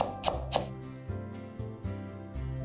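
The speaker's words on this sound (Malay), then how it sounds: "Daun ketumbar dan daun pudina potong kasar" A knife roughly chops coriander and mint leaves on a board, a handful of sharp, close taps in an uneven rhythm, fairly quiet and with no talking.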